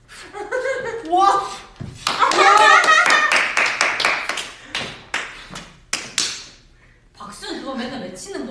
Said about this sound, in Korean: 박수는 그거 맨날 왜 치는 거야?